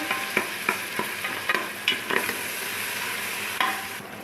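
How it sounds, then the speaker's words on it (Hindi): Garlic ginger paste sizzles frying in a pan with repeated sharp scraping clicks from stirring, steady hiss underneath, fairly close. "लहसुन अदरक का पेस्ट हमारा फ्राई हो चुका है, इसको हमने अच्छी तरह से भून लिया है।"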